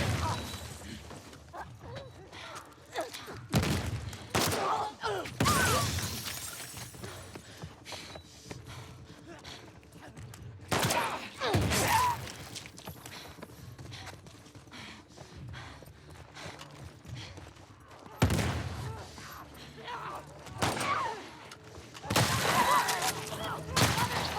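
Gunfire in The Last of Us Part II, played as Dina in a grounded-difficulty run: several loud sharp bursts of shots spaced apart over a steady background of game ambience, with no talk.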